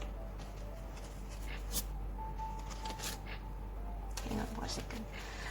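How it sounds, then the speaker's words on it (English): BTS photo cards shuffled steadily by hand, a continuous soft papery riffle with a few sharper flicks, close and alone over a faint steady hum. "I want to shuffle these BTS photo cards"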